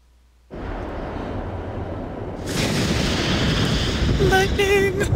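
Lightning and thunder in the Baldur's Gate intro: a sudden loud rumbling onset that swells into heavier roaring thunder, with music tones entering near the end.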